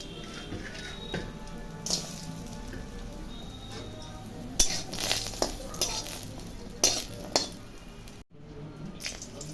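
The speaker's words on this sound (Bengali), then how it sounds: "এখন বড়িগুলো ভেজে নেব" Lentil badis (bori) fry in oil in a kadai, giving a steady soft sizzle with scattered clinks and scrapes of a spoon against the pan, plus a brief gap of near silence toward the end.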